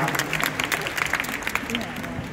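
Concert audience applauding a singer, a dense wash of claps throughout with someone talking over it.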